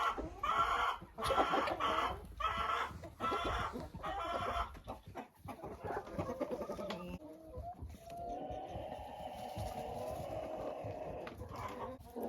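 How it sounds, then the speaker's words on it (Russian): Rooster and hen clucking close by in an outdoor poultry enclosure, a steady stream of loud, overlapping calls and squawks that ease into lower, continuous clucking toward the end. "Вот так петух заставляет курицу нестись в гнездо."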